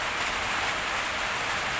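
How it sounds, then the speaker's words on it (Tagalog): Steady, dense hiss of heavy rain pouring down, constant and close with no voices. "bumuhos na yung ulan."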